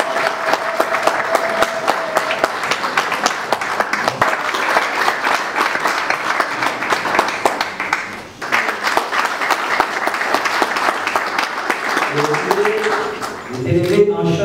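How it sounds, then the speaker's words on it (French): A large audience at a Senegalese gathering breaks into sustained, dense applause that holds strong for over twelve seconds before a voice begins speaking over its tail. "tout en vous priant de les accueillir chaleureusement à la manière de chez nous, avec des applaudissements frénétiques"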